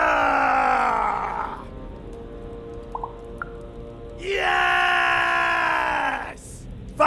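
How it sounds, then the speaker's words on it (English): Loud, drawn-out screaming battle cries from characters in the video game Lost in Random, two long strained yells separated by a quieter pause. "We need to scream so that our enemies know that we're here!"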